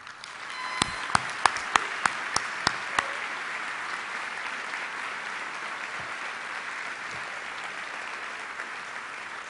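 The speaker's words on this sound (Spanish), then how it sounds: "Para todos ellos les pido un fuerte aplauso" Applause at a Puerto Rico National Guard ball honouring service members, opening with a few sharp isolated claps, then a steady distant wash of many hands clapping.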